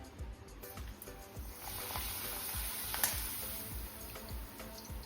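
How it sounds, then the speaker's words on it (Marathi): Urad dal papad wafers frying in hot oil, a steady broadband sizzle with soft bubbling and crackle running throughout, close and even with no talk. "आपण काही पापड तळून देखील बघूयात"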